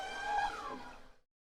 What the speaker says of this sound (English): It's like an elephant in the forest